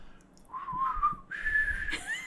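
A person whistles a short tune alone, a clear, close melody of a few sliding notes rising to a higher held pitch.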